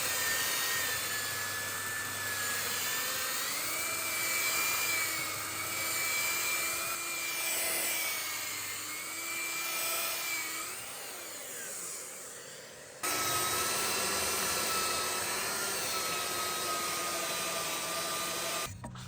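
A power sander whines steadily on wood with a shifting pitch, cutting out briefly before starting up again at a slightly different tone.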